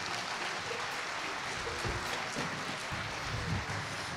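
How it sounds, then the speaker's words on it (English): Applause from a concert audience fills the whole stretch, a steady dense wash of clapping that stays loud and even without pause. "You deserve that round of applause."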